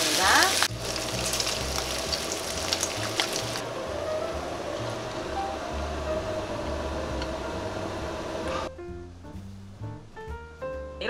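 Steady sizzling and crackling of freshwater eel pieces grilling in a hot pan, loud and close, with some clattering and a tonal shift near the end.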